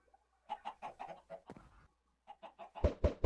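Chickens cluck in Minecraft, a string of short rhythmic clucks followed by a pause, then more clucks ending in two louder, closer bursts.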